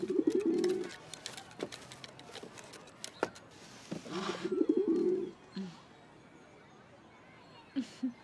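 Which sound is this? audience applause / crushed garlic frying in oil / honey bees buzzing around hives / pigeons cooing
pigeons cooing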